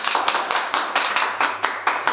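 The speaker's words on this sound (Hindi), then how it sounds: "चलिए, ताली बजा दीजिए आपको।" Students in a class clap together in a steady rhythm, about ten sharp, evenly spaced claps close by and loud, with no talk over them.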